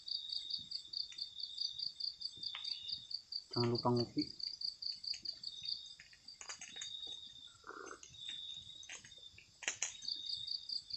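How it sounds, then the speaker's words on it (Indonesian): Crickets chirp steadily in a continuous high trill at a night campsite, with a brief voice speaking quietly and faint bird calls in the background. "ini suara jangkrik ada juga jauh nih."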